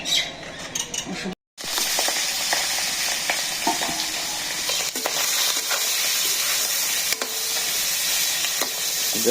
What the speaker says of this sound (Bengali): মাছ ভাজি করে দিই